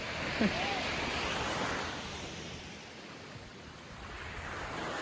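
Surf on a beach in Fiji washes in as a broad, steady roar, rising and easing slightly, with gusty wind noise and a brief faint call near the start.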